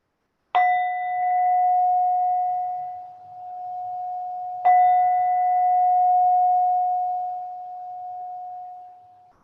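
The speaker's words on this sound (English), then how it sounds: "And then listening out for the bell." A meditation bell is struck twice, about four seconds apart, each strike a clear bright ring that hums on and slowly fades, heard alone in a quiet room.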